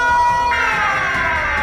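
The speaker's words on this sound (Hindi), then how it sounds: "सायरन हेड को बहुत गुस्सा आता है और फिर वो अपना सायरन बजाने लगता है" Siren Head, a horror cartoon creature, blares its siren: a loud, sustained wailing siren tone that holds steadily and swells slightly partway through, with no talk.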